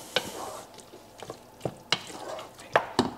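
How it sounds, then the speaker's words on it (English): Tortilla stack ingredients being stirred in a pan with a spoon, soft sizzling under a run of sharp scrapes and knocks at an uneven rhythm, close and fairly quiet. "And stir that around together."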